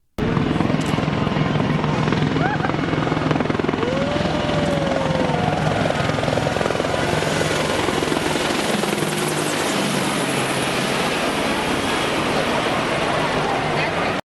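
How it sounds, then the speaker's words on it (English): A low-flying military helicopter passes directly overhead in downtown Houston during a Veterans Day event, its rotor roaring loud and continuous throughout, with crowd voices faintly underneath. "Houston Veterans Day, helicopter flyover downtown."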